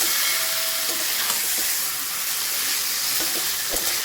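Chicken pieces sizzle and hiss in a hot pan with spices for Bengali chicken kosha, a loud steady fry broken by a few scraping stirs.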